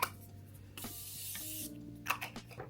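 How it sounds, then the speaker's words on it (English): Drugstore makeup setting spray is sprayed once onto a face: a close, soft, breathy hiss lasting about a second, followed by faint clicks and handling. "So we're gonna go ahead and spray"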